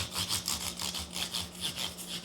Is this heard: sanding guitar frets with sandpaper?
yes